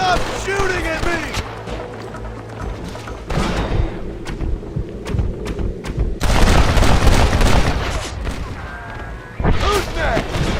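Gunfire and heavy booms in the video game Red Dead Redemption: loud, repeated shots and thuds in irregular bursts, with a denser barrage midway, alongside shouting character voices.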